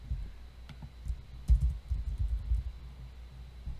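Soft, irregular taps of typing on a computer keyboard, close and quiet, in uneven bursts with no speech.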